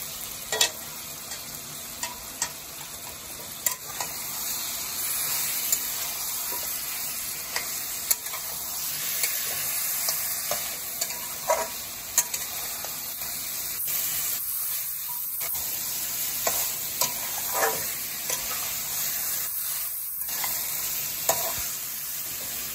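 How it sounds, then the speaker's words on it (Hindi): Garlic ginger paste and green chilli frying in oil for a dhaba-style chicken curry, a bright steady sizzle with scattered sharp pops and occasional stirring clinks, close and continuous. "इसको थोड़ा देर भूनने देंगे"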